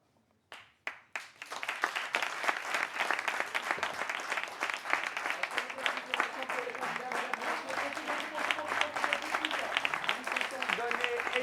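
An audience at a live French hosted event bursts into applause after a few scattered opening claps, then sustains dense, loud clapping to the end.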